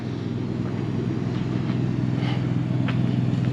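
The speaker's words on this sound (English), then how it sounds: "Got the motorhome running." A 2016 Jayco Alante 31AV Class A gas motorhome with a 362 HP engine idles steadily nearby, a low continuous rumble with a faint higher hum, holding even loudness throughout with no one talking.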